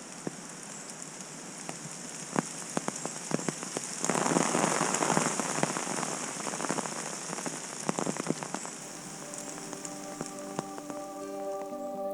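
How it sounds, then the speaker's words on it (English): Heavy rain pours down outdoors, a dense steady hiss with many close drops pattering on surfaces, swelling louder through the middle, with a faint tonal hum near the end and no talk. "And now it's absolutely chucking it down."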